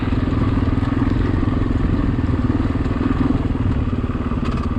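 Motorcycle descending a trail in low gear with the rear brake applied, engine droning continuously up close amid steady rattling and crunching from the terrain.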